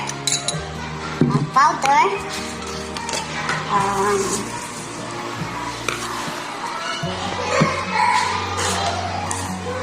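Utensils clink and scrape against a bowl while puto banana batter is mixed, with irregular clatter through the clip and people talking over it.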